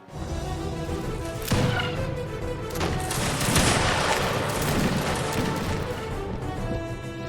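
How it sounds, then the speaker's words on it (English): Gunner troops firing musket volleys in a Mount & Blade: Warband mod battle, a dense, overlapping crackle of shots with heavier bursts, loud and sustained for several seconds. "each faction come with their own gunner troops, and firing volleys are about as satisfying as you could hope for"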